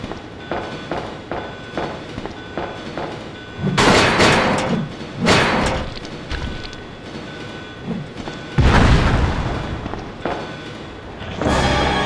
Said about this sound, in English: This train will detonate.